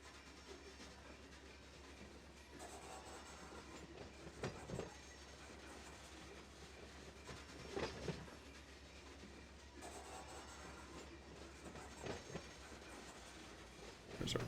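A heavy freight train in the Run 8 Train Simulator game moves through Barstow hump yard, with a steady low engine drone, faint clickety-clack and occasional louder clunks of couplers and wheels.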